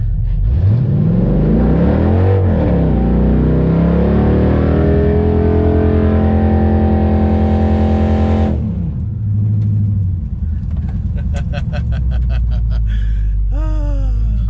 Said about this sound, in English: Figured out we can definitely do a burnout as soon as we turn down limp mode.